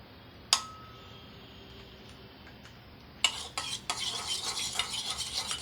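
After a single metallic clink and a quiet pause, a spoon stirs curd in a bowl with a run of quick scraping and clattering strokes that grows busier toward the end. Nobody speaks.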